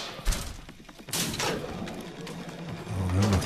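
Bursts of gunfire and heavy thuds ring out in the shooter video game Singularity, a sharp volley early on followed by scattered shots and rumbling impacts under a busy combat backdrop.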